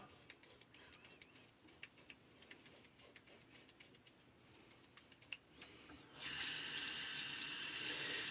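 A razor is rinsed under a running bathroom tap: scattered small clicks and taps come first, then the water bursts on abruptly and flows steadily and fairly close for the last couple of seconds.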